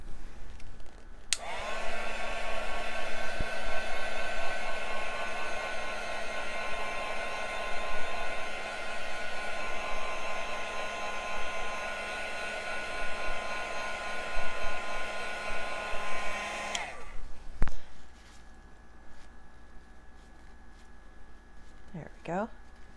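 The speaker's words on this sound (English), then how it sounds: "So I'm going to take the heat gun to them just a little bit." A heat gun blows on wet paint on a canvas in a mixed-media mandala piece, a loud steady close whoosh lasting about fifteen seconds before cutting off, leaving a quieter room.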